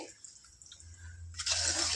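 Half a litre of water poured into a pot of Telangana-style boti curry: faint drips at first, then a short, louder gush of pouring near the end.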